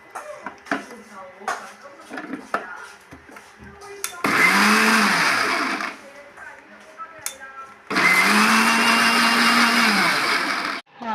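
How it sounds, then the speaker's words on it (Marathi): A mixer grinder blends chopped spinach into a paste in two loud, sustained bursts of whirring, each lasting a few seconds. Scattered kitchen clatter and handling noises come before the first burst. "हा मी आता पालक बारीक करून मिक्सरला वाटण करून घेणार आहे."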